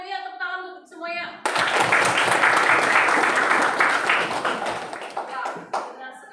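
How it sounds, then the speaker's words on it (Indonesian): A group of teachers in an academic-supervision coaching session bursts into loud, dense clapping that lasts about four seconds, then fades back into talk; speech is heard before and after. "tepuk tangan untuk semuanya"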